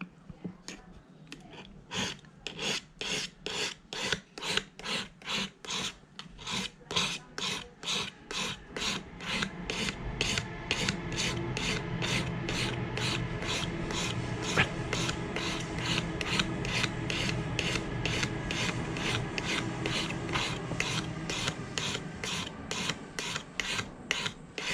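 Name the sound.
sharpening a Stanley 151 spokeshave blade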